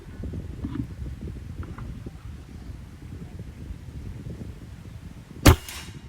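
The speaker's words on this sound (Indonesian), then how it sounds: "Kita mulai tembakan pertama." A single sharp crack of a Sanca Gear air rifle shot near the end, after several seconds of quiet outdoor ambience and low rumble.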